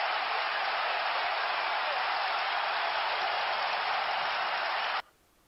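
A football stadium crowd at Arsenal vs Chelsea cheering and applauding, a broad steady roar of noise that holds evenly for five seconds and then cuts off abruptly.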